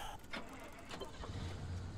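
A car engine in the Pacific Drive video game idles with a steady, smooth low rumble, with a few brief mechanical clicks and rattles near the start.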